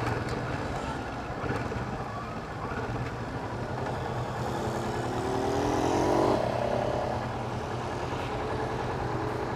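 A Kawasaki Vulcan S motorcycle engine idles in neutral with a steady low rumble, close and fairly loud, with a brief swell in the middle of the clip.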